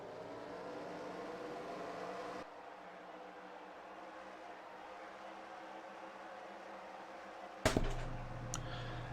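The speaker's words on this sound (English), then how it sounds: "Drivers, start your engines!" Stock car engines idle in a Cup Series racing video game before the New England 400 at Boston: a low, steady droning hum that drops slightly, then ends in a sudden sharper, louder burst near the end.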